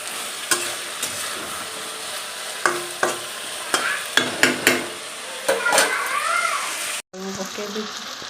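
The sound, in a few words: onions frying and being stirred in a pan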